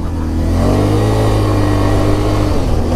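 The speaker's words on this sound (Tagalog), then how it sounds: "Sobrang puwersa ng ATV na to." An ATV engine revs hard on a rocky off-road trail, a loud, close, sustained drone that holds steady with slight rises in pitch.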